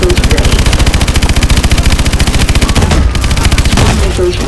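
Rapid, evenly spaced bursts ring out from a vehicle's main gun in Call of Duty: Advanced Warfare, loud and nearly continuous, with a short break midway before the firing picks up again.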